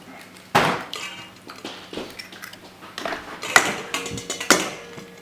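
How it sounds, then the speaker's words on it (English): Six eggs cracked into a bowl and whisked, with sharp shell taps and clinks against the bowl followed by quick irregular whisking clatter, close and fairly loud with no talk. "So you crack those in there, all 6, and whisk these up."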